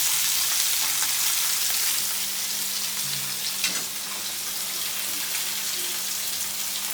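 Pieces of fish fry in oil in a pan with a continuous close-up crackle and hiss, broken by a single faint clink partway through.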